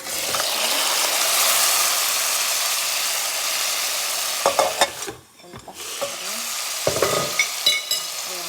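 Chicken sizzles loudly as it fries in a pan, a steady hiss broken by clattering scrapes and knocks of a utensil stirring it near the end.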